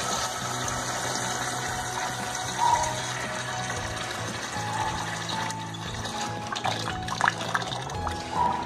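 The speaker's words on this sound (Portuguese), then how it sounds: "numa panela, nós vamos colocar o pêssego, vamos acrescentar água até cobrir" Water poured into a cooking pot over peaches to cover them while making peach syrup, a steady close rush of filling liquid with faint splashes and small clinks throughout.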